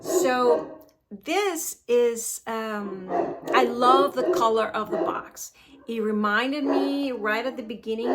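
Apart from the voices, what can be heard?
dog barking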